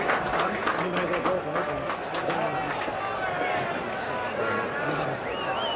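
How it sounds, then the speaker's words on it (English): Scottish rugby players clap the All Blacks onto the field beneath the stand at a 1981 test match, with rapid, scattered clapping at the start fading into crowd noise and talk. "The Scottish team clapping the All Blacks in"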